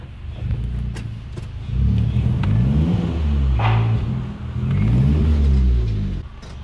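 A Honda Brio Turbo accelerating on the road, with a loud, steady engine drone that rises in pitch through two distinct pulls with a brief dip between them, heard close from inside the car with no talk.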